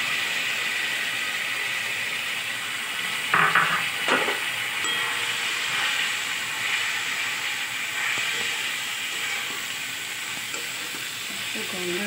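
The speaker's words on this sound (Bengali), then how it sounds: "এবারে গোবিন্দভোগ চালটা দিয়ে দিলাম। এবারে একটু ভেজে নিয়ে" Gobindobhog rice fries for veg pulao in a pan, a steady close sizzle and hiss broken by a couple of stirring scrapes and clinks, with no talk over it.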